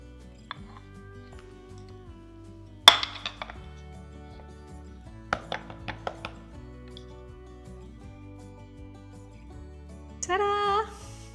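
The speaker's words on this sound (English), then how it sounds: "you can scoop it into a small little bowl, pack it in, and then invert it on a plate" Fried rice is scooped and packed into a small bowl, then turned out onto a plate: soft scraping and dull taps of spoon against bowl, a sharp clink, a cluster of quick knocks, then a brief louder scrape near the end.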